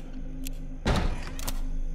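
A door moves by itself in the Spectres video game, one heavy thud partway through followed by a short creak and faint rattle against a quiet, humming room ambience.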